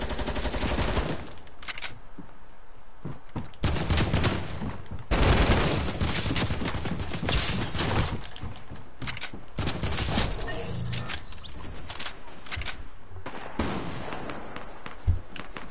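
AK rifles fire in a first-person shooter game, dense automatic sprays and rapid bursts nearly continuous for the whole stretch, loud and close with brief gaps between volleys.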